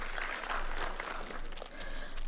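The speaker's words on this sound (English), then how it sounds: "A good hand of applause for the chairman." Brief audience applause for the chairman at an electoral commission event, a short burst of many hands clapping that dips slightly and then carries on.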